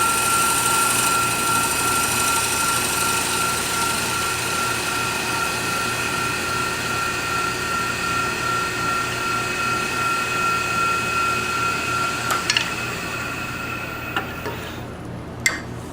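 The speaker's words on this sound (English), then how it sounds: "I'm just going to take my spindle gouge now and clean up the bottom" A wood lathe spins a ring box on a jam chuck while a spindle gouge cleans up its bottom. A steady, even motor whine with a tonal hum runs throughout, and faint tool clicks come near the end.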